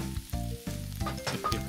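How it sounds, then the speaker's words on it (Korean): Fried rice with curry powder stir-fries in a pan, a close, steady sizzle broken by several quick stirring scrapes in an uneven rhythm. "카레 가루를 조금 넣고 볶아 볶아."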